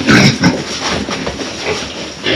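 Pigs grunt and squeal loudly and close by in rough, breathy bursts, with a hissing, noisy background throughout.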